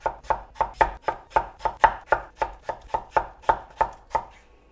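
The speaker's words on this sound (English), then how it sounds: "what I'm going to try and do is cut them kind of like fries." A knife cuts potatoes into fries on a cutting board in about fifteen quick, evenly spaced strokes, close and crisp, with no talking.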